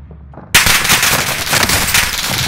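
Rapid automatic gunfire on Rebirth Island in Call of Duty: Warzone breaks out suddenly and keeps going as a loud, continuous close-range barrage.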